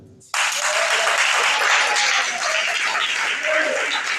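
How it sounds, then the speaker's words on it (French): An audience bursts into loud, sustained applause after a quiet moment, dense clapping filling the space for several seconds, with a voice faintly underneath. "Est-ce que vous n'allez pas applaudir?"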